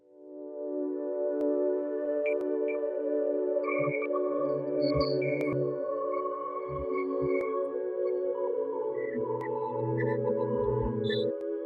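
A sustained synth lead, a one-bar Glimmers preset through the EFX Fragments plugin, broken into glitchy, stuttering fragments, with scattered blips and clicks popping over the drone; no voices.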